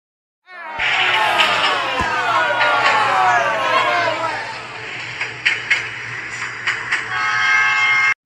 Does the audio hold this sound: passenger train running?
yes